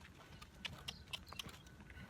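A horse's hooves on the ground during exercise: four evenly spaced, sharp clops at a steady walking rhythm, faint against a constant low rumble of background noise.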